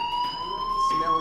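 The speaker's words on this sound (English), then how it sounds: "Hey, do you hear that fire alarm?" Fire alarm ringing in Life is Strange Remastered, a steady piercing electronic tone holding throughout, with a voice speaking over it.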